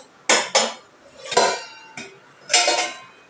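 Several sharp metallic clanks as a pressure cooker is opened and its metal containers handled, a few quick knocks followed by a louder clatter, close by with no talking.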